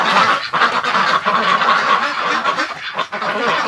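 A dense crowd of wintering ducks and geese quacks and honks loudly inside a barn, a continuous, close, raucous clamor of overlapping calls with no pauses and no voices.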